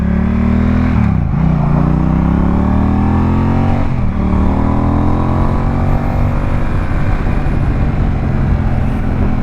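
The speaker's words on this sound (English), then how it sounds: "the sound of this exhaust" A Honda Rebel 1100T's loud exhaust drones steadily, with two brief dips in throttle before the engine pulls back up into a sustained, rising roar.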